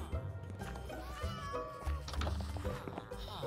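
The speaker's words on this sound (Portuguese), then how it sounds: "Olha o gato, mano." A cat in the Minecraft video game meows a few times in quick succession, fairly close, while a person talks over it.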